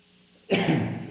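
A single short cough bursts out close to the microphone after a moment of quiet room tone.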